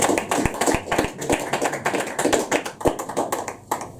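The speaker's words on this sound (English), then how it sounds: "More applause, please." An audience at a poetry open mic in a pub applauds steadily, a dense patter of close hand claps lasting the whole stretch without talking.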